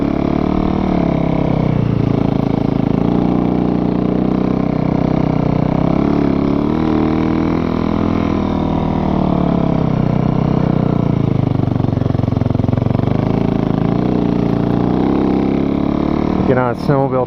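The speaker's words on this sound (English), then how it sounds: "Bike's making some weird sounds." A motorbike engine drones loudly and without a break, its pitch wavering up and down as if labouring oddly.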